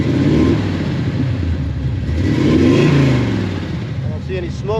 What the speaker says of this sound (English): See how the throttle responds.